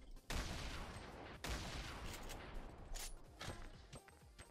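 Gunfire in the video game Fortnite: several loud bursts of rapid shots fired in quick succession, booming close with short gaps between volleys.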